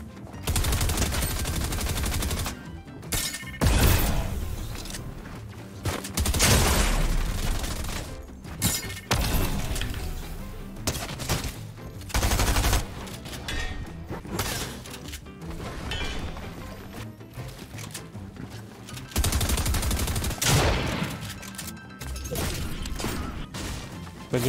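Gunfire in the video game Fortnite comes in repeated loud bursts of rapid shots, separated by brief lulls and some clattering impacts, with little talk audible.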